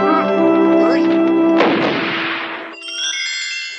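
One booming cannon shot from an animated telling of the defence of Zaragoza, where a single cannon held the city, erupts as a loud blast over a sustained musical backing and then fades.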